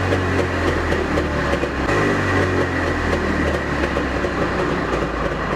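Two-stroke engine running steadily nearby, a loud continuous drone with a rapid rattling pulse throughout and no talk.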